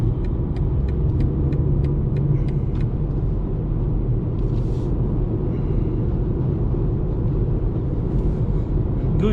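A 2020 BMW 118i's engine accelerating hard while overtaking, a loud, sustained low rumble heard from the cabin, with faint clicks early on and no talking.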